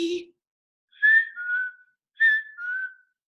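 Someone whistles a bird's "hey sweetie" call as an imitation, a short opening note and then two paired falling phrases, clear and close with nothing behind them.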